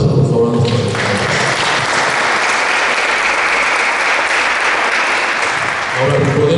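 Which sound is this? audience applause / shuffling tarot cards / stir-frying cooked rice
audience applause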